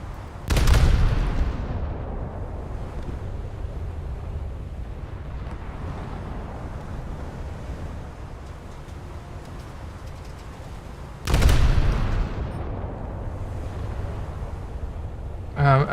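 A naval warship's big guns fire in a game: two heavy booming salvos roughly ten seconds apart, each a sharp loud blast trailing into a rumbling decay, with a third starting at the very end over steady engine and sea noise.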